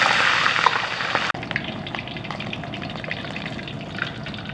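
Pig trotter fries in hot oil with a dense bubbling sizzle that is loudest at the start. A sharp break comes as the piece drops into the pan, and steady, softer frying follows.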